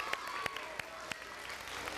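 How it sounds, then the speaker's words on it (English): Faint, thin applause from a small group at an elementary school, with a few sharp distinct claps standing out over a soft, distant patter. "Let's give her a round of applause for helping out."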